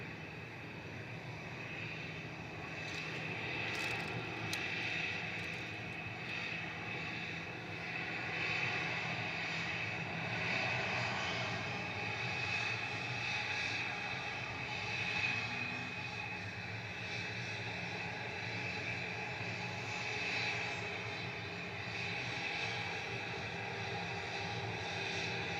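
An EasyJet airliner rolls for takeoff at Manchester Airport, its jet engines a steady, distant roar that swells gradually and holds throughout.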